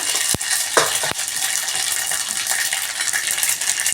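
Mustard seeds and cumin sizzle in hot oil over a low flame, a close bright crackle with a few sharp pops and clicks near the start, then steady frying.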